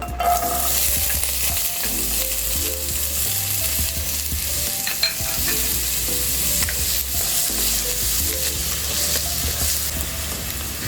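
Diced potatoes and carrots fry in hot oil in a pan for pork menudillo, giving a loud, steady, close sizzle that runs unbroken throughout, with occasional stirring scrapes and no talking.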